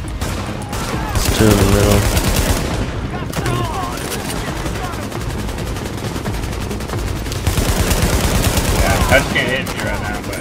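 Sustained automatic gunfire from a Tom Clancy's The Division firefight, loud and continuous for about ten seconds, with a few brief heavier bursts, and a voice speaking briefly over the shooting.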